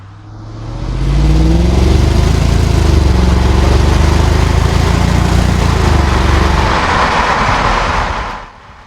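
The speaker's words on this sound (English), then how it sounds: "In just a few seconds we'll be able to hear that vehicle accelerate as well." A late-model, high-spec BMW X3 accelerating hard, its engine swelling from a low rumble into a loud, sustained roar that climbs through the gears and holds for several seconds before easing off, close by with no voices.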